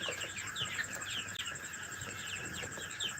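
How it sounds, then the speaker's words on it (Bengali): Chickens clucking and chirping at night while being fed, a continuous soft chorus of bird calls with a steady background hiss. "আমি মুরগিগুলোকে খাবার দিচ্ছি"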